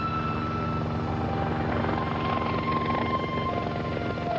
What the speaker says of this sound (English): a lone helicopter flew over in tribute.